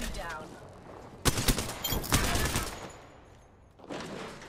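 Gunfire in the battle royale game Apex Legends, with sharp rapid bursts of shots through the middle and a quieter volley toward the end, set against faint voices.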